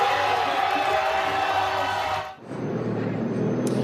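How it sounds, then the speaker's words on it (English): Kids cheer loudly as Canada takes gold at a breaking competition, a dense crowd roar of whoops and shouts that drops briefly after a couple of seconds, then swells back into continuous excited noise. "the kids cheering for Canada taking the gold"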